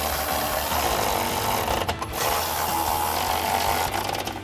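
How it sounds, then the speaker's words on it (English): A ratchet fitted with a 13mm socket tightens running-board mounting bolts on a Ford F-150, giving a steady, close, continuous mechanical clicking and whirring with no talk. "grab our ratchet with our 13mm socket and tighten these down."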